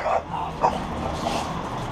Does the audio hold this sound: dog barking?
yes